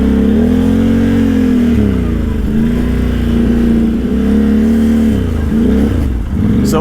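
A Can-Am Outlander 800 ATV engine drones loudly and continuously while riding, rising and falling in pitch as the throttle shifts, close and unbroken throughout.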